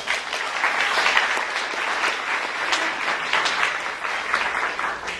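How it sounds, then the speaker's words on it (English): A group applauds steadily, a dense patter of clapping hands that holds an even loudness throughout. "Give them applause."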